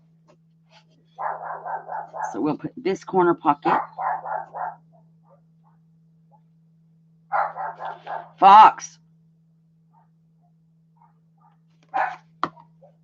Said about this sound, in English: We got a dog outside barking.